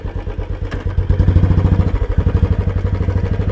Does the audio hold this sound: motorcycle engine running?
yes